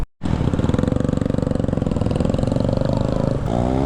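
A Royal Enfield Meteor motorcycle engine idles with a loud, even thumping beat close up after an abrupt start, then revs upward near the end.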